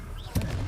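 A single muffled blast from the Confringo fire spell striking a target in Hogwarts Legacy, a short thump with a burst of noise over continuous game background sound.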